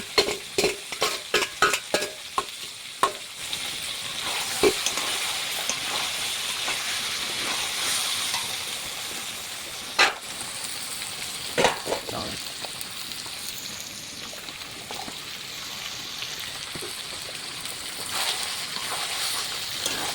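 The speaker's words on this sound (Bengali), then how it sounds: "ভালো করে নেড়ে নিচ্ছে আর দেখো মশলার গা থেকে তেল ছেড়ে ছেড়ে যাচ্ছে" Masala with chilli powder and water frying in a pan while being stirred, with a run of sharp scraping clicks at the start, then a steady hissing sizzle and occasional spoon knocks, close and clear with no talk.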